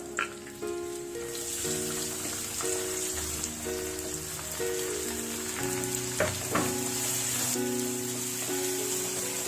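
Chopped onion sizzling in hot oil in a pan for chutney, a soft continuous frying hiss under background music, with a couple of brief stirring clinks partway through.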